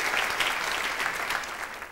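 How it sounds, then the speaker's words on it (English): Applause from an audience, a steady wash of clapping hands with no talking over it, fading slightly toward the end. "No need to applaud, folks."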